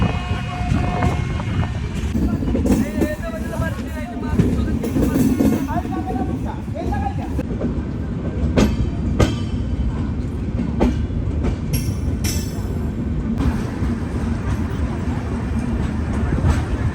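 A passenger train on a long-distance run from Secunderabad toward Ayodhya rolls along the rails near Varanasi with a steady, loud rumble and occasional sharp clacks, while people talk over it inside the carriage.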